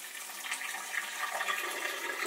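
Water runs from a tap in an old, long-abandoned house, a steady hissing flow that continues unbroken at moderate loudness with no voices over it.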